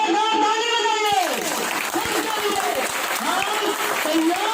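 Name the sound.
audience applauding loudly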